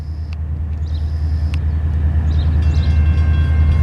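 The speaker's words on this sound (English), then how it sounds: "I'm gonna be quiet so that you guys can hear the train." Norfolk Southern southbound local freight train rolling past in Marion, Ohio, a steady heavy low rumble of railcars with faint metallic squeals and clanks above, close and continuous with no talking.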